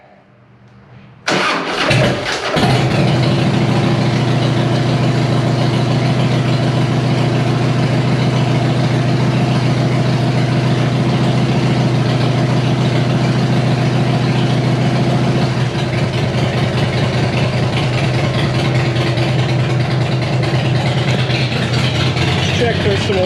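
A Harley-Davidson Fat Boy motorcycle with the choke up cranks and catches on its stand, then settles into a loud, steady, close-up idle that runs on without a break, with a little talk underneath.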